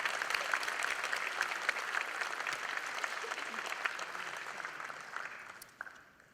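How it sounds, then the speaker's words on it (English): Banquet guests at the Thibodaux Chamber banquet applaud the award winners, a sustained wash of many hands clapping that tapers off and dies away in the final second. "Let's give one more huge round of applause to all of tonight's award winners."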